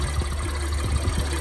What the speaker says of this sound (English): Honda has us on a 280 horsepower V6 cylinder engine.